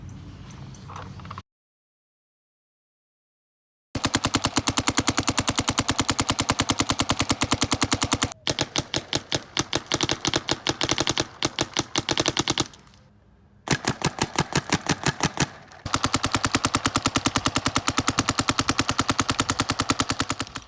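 Empire Mini GS paintball marker firing in long rapid bursts, loud sharp pops in a fast steady rhythm, with short pauses and a silent gap between strings of shots.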